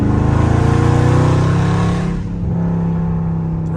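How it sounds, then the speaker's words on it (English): A stage 2 tuned Dodge Charger Scat Pack V8 revs hard, loud and close, holding a high droning pitch before the revs drop and it settles into a lower, steady throaty tone. "Let's see how it sound though."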